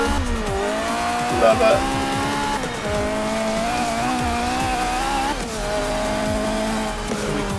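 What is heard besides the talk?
Renault Clio Williams car driving, exhaust pops, in Forza 7 video game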